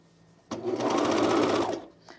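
A sewing machine runs one short burst of rapid stitching along a jumpsuit seam, starting abruptly and stopping after just over a second, close and clear with no voices.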